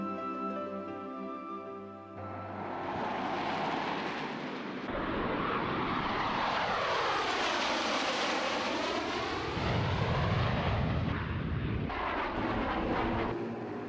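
A powerful jet aircraft roaring past at the Zhuhai air show, the China International Aviation and Aerospace Exhibition, a loud continuous engine rush with a sweeping pitch as it passes, dominating throughout.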